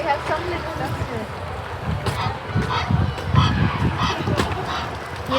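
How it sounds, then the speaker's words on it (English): Ducks and swans gather by the water, honking and quacking calls mixed with nearby chatter and people talking. "we have some little ducks here."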